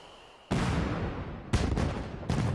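Fireworks from the finale of The Secret of Monkey Island video game burst in three loud, booming blasts, each with a crackling, rumbling tail, with no voices over them.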